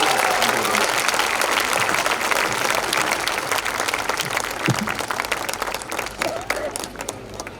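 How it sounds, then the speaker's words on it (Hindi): A loud, sustained burst of audience applause at a live poetry gathering welcomes a poet to the stage, densely packed claps that hold steady, then thin and fade toward the end. "जोरदार तालियों के साथ बुलाइए।"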